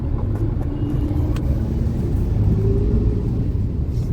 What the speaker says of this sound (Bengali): তার মধ্যে দিয়ে গাড়ি যাচ্ছে, বাস যাচ্ছে, টোটো যাচ্ছে, সাইকেলও যাচ্ছে, বাইকও যাচ্ছে, সব এভাবেই চলছে।